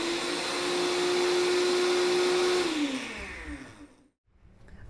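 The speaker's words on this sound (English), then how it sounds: "we're just going to work the bowl of the blender or the processor to make sure that everything gets broken down into a nice smooth puree" Blender or food processor pureeing basil, garlic and olive oil, a steady loud motor whir that spins down abruptly near the end.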